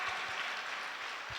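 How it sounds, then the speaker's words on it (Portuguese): A church congregation applauds together during a Portuguese-language worship service, a steady wash of clapping that fills the room evenly for the whole moment, with faint low thumps underneath. "Vamos aplaudir ao Senhor por isso?"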